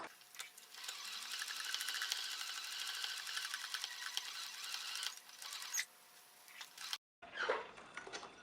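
A sewing machine stitches a reverse appliqué T-shirt in a steady, fast mechanical whir for about seven seconds, stopping abruptly before a brief rustle of fabric.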